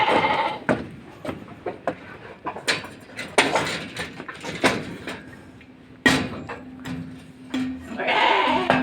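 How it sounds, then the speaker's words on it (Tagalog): Sheep bleat in a temporary pen on farm grounds, with several short calls scattered over the clip amid knocks and rattles of the enclosure, fairly close and alone, with goats nearby. "So akyat tayo dito sa temporary na kulungan ng tupa."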